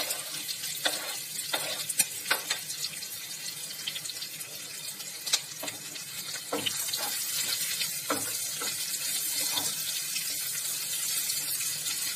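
Onions and green chilies frying in a pan give a steady, loud hiss throughout, broken by sharp clicks and taps of a spoon stirring at irregular intervals, with no talking.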